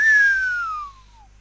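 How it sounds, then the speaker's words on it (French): A person whistles one clear, loud note that slides steadily downward in pitch and fades out after about a second, alone and close. "désolé pour le sifflement"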